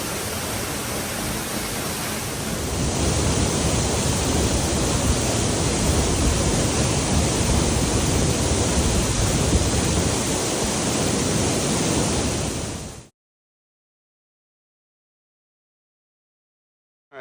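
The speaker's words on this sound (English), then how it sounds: "Now you can see the smaller fall below is the tea kettle, but it's flowing so heavy it's passing it." A heavily flooded waterfall in Arkansas pours with a loud, dense, unbroken roar that swells after a few seconds, holds steady, then cuts off abruptly into silence.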